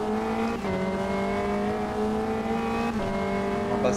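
A prototype race car engine at night in the Automobilista 2 racing game, a steady close-up drone that holds a sustained pitch with brief shifts like gear changes, heard alone without talk.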